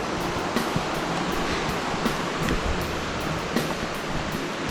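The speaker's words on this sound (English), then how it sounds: "over here in Nelson, it's fucking raining" Steady rain falls through bush near Nelson, New Zealand, a dense even hiss of drops on leaves with faint patters standing out, continuous and close, with no voices.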